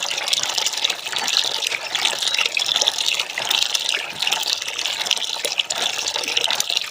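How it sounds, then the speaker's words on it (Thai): Freshly harvested ripe coffee cherries being washed in water, with a loud continuous splashing, gushing rush that holds steady throughout with no speech. "แล้วก็มันล้างให้มันสะอาด"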